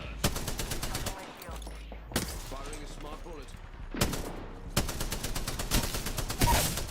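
Video game gunfire in a shooter match: repeated loud bursts of automatic fire in several volleys, with game voice lines and talk heard between the shots.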